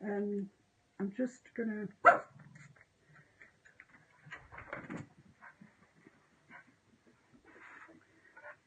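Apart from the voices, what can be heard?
dog barking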